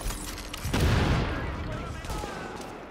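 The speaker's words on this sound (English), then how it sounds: "I just took one shot to take him out" Gunfire and a booming blast from Tom Clancy's The Division, a loud burst that swells into a rumbling explosion and then decays into a lingering low roar.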